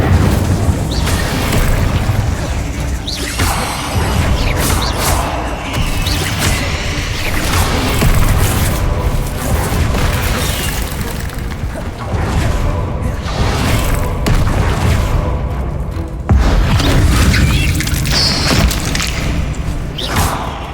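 Incendio and Confringo spell blasts in Hogwarts Legacy fire one after another during a spider fight. Loud booming explosions pile up into a constant, heavy roar of bursts and crashes.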